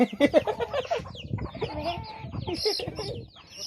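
Chickens cluck loudly nearby in a busy, overlapping flurry, with squawks and rustling throughout.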